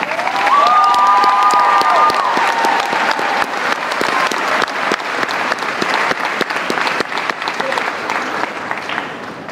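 A school gym crowd claps and cheers loudly and steadily for basketball recruit Malachi Moreno on his decision day at Great Crossing High School, with a few whoops rising early and the applause holding throughout.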